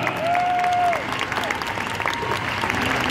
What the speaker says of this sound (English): a mighty cheer for St. Nicholas and Gosparo, his beautiful Andalusian stallion